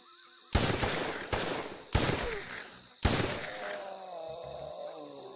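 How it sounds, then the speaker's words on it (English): Four loud, sharp gunshots ring out at uneven intervals in the Wild Wild West video game, each shot trailing off into a short echo, over a steady high game tone with a voice murmuring near the end. "Somebody's still shooting at me."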